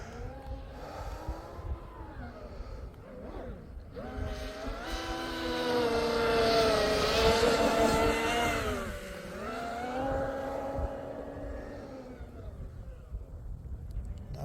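A 51-inch TFL Ariane RC boat with twin Arneson surface drives runs on open water, its high-pitched motor whine rising to a loud peak mid-run and then easing back as it passes, with someone talking over it.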